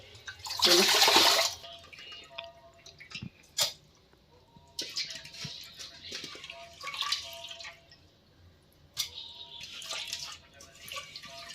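Soaked flattened rice is washed with water, beginning with a loud pouring splash, then intermittent sloshing, rinsing and dripping bursts in a kitchen vessel.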